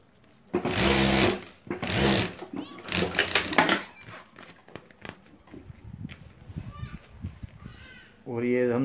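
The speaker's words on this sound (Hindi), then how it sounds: "यहाँ सिलाई कर देंगे हम" A sewing machine stitches a strap onto a homemade sling bag in three quick, loud bursts. Quieter clicks and handling noises follow, and a voice speaks at the end.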